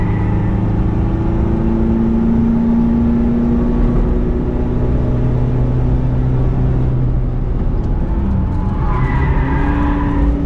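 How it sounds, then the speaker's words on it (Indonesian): A loud Toyota GR race car engine roars steadily and close on the Mandalika circuit, its pitch shifting as it revs and settles, with a brief higher whine near the end. "Kayaknya kenceng banget tuh mobil."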